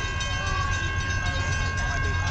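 A CSX freight train passing at a steady, continuous rumble with a faint metallic ringing tone riding over it, loud and close, while people talk nearby.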